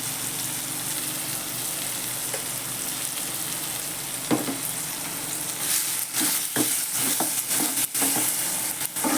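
Ground masala paste for a pea and potato curry sizzles steadily in a pan, with a constant loud frying hiss and occasional scraping stirs growing busier toward the end; no one speaks.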